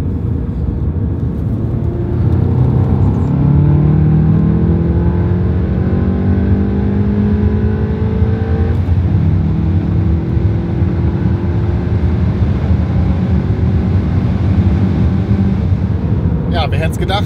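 A VW Golf 7 pulls hard from 100 to 200 km/h, its engine note climbing steadily through the gears with brief dips at each shift, loud and close inside the cabin, with a voice speaking over it.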